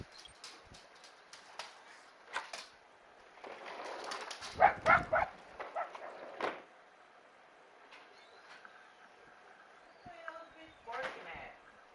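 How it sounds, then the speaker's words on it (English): A dog barks and makes short sounds indoors near a person playing a video game, several sharp, scattered yelps of moderate loudness mixed with light clatter and occasional speech. "What do you want, dog? You want outside, don't you?"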